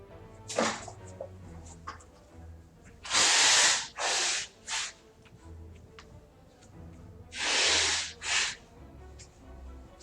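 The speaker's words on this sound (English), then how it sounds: "mute the microphone so I can blow my nose" Someone blows their nose in several forceful, hissing bursts: a short one, then a cluster of three, then a pair later, with quiet breathing in between.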